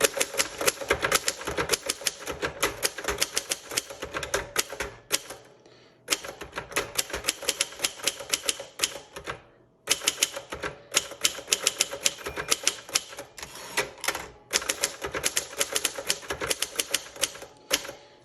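A 1964 Adler J3 typewriter typed on steadily, with dense rapid keystrokes in bursts separated by brief pauses, close and clear with no talking.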